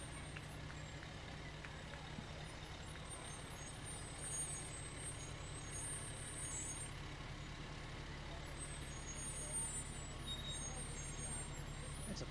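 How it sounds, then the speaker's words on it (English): A big ladder fire truck rumbles past in a 2005 parade, its heavy engine droning at a distance under crowd noise and a commentator's voice. "And another ladder truck coming up"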